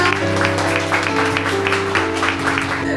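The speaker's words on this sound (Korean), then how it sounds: "박수 부탁드릴게요." Guests at a Korean first birthday party clap together for the family, a steady patter of applause mixed with sustained music tones running underneath.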